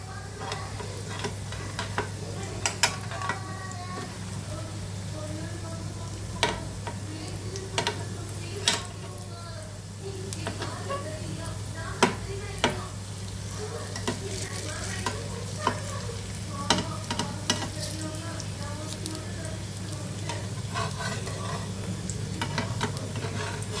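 Chicken kebabs frying in a pan over a slow flame, a soft continuous sizzle with scattered ticks and stirring clinks, plus a steady low hum throughout.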